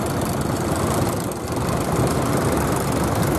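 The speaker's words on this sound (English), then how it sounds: "the John Deere, horizontal two-cylinder diesel engine" A John Deere horizontal two-cylinder diesel tractor engine idles at a ploughing match, with a steady low, loud thumping chug that holds for several seconds with no voices.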